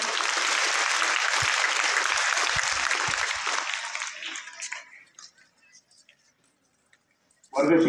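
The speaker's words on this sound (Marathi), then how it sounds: "एकदा जोरदार टाळ्या होत्या मित्रांनो" Loud crowd applause at a school prize ceremony for a Ganesh festival display, sustained for about four seconds and then dying away into silence before a voice starts.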